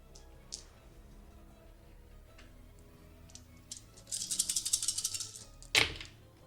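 A big handful of dice tumbles across a table in a dense rattling clatter lasting about two seconds, ending in one sharp final clack, preceded by a few scattered isolated clicks against quiet room tone.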